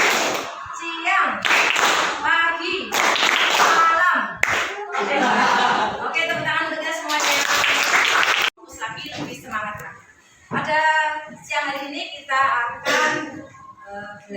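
A class of students plays a call-and-response clapping game led by a teacher, bursts of group claps in rhythmic patterns that alternate with the leader's spoken cues and some children's voices and light laughter.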